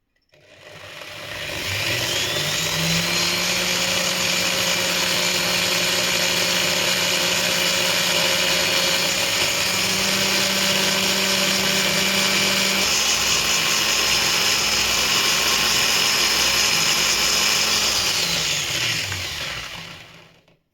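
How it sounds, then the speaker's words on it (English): A small rotary power tool whines steadily for about twenty seconds while sanding a model car rim, a constant high-pitched motor hum with a slight shift in tone midway. "at the same time sanding the surface of the rim"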